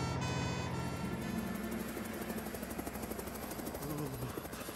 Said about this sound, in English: Oh, that sounds like Tom's helicopter.